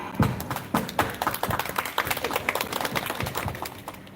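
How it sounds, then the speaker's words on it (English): An audience at an English speech competition applauds for teachers, scattered claps building into a steady patter of hand claps, moderately close and fairly light, with no speech over it. "give applause for all of teachers in Indonesia"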